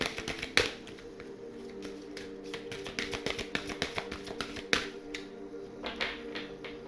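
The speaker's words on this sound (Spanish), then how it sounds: "vamos a barajar este maravilloso oráculo" Oracle cards are shuffled up close, a soft flurry of papery riffles and quick snaps with a few sharper slaps mixed in, fairly quiet, with no voices.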